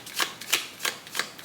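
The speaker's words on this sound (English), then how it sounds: "I'm actually going to shuffle out a few more" Tea leaf fortune cards are shuffled in four quick, even riffling bursts, soft papery swishes close to the ear with brief pauses between.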